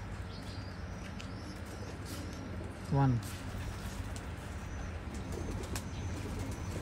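Rampuri pigeons give a single throaty coo midway, set against a low hum, with a person speaking nearby.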